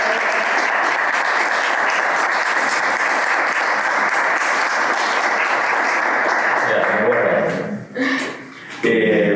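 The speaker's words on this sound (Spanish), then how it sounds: "¡Un aplauso!" An audience at a book presentation in a cultural centre applauds in a loud, sustained wash of clapping that drops away near the end, with a voice emerging as it fades.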